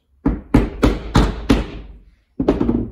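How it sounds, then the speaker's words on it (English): Hammer tapping a tight plastic belt tensioner part through while it rests on a workbench: five sharp, evenly spaced knocks, a short pause, then a sixth blow, loud and close with no talking. "If yours is a bit tight and you can't push that plastic bit through, you can just use a hammer, place it on the bench,"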